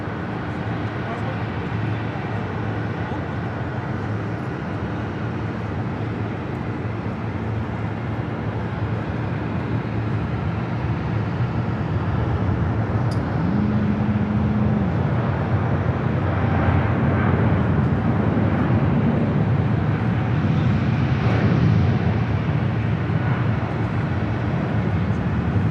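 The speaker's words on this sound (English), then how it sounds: "Korean Air Flight 12 now rolling on 25 left." Korean Air Flight 12 airliner rolling for takeoff on runway 25 left at LAX, a continuous broad roar of jet engines heard from a distance, swelling slightly toward the end amid steady wind and background noise.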